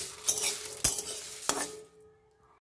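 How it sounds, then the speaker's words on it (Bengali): Spices fry in a pan for raw mango pickle, a soft sizzle broken by three sharp scraping stirs of a utensil against the metal, fading to near quiet at the end. "এই যে ভাজা চলছে, হয়ে এসছে, আর একটু হলেই হয়ে যাবে।"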